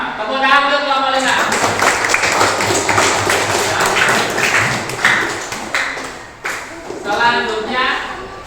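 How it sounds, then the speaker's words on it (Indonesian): A classroom group applauds group 5, starting after a moment of speech with a burst of many hands clapping that holds for several seconds, then fades as a voice resumes talking. "Tepuk tangan untuk kelompok 5"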